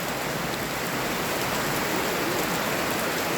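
Steady, dense hiss of rain falling, continuous and fairly loud, with no voices or other distinct sounds.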